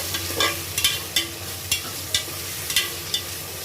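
Tomato and peas frying in oil are stirred in a pan, a spatula scraping in a steady rhythm of about ten short strokes over a low continuous sizzle; no speech.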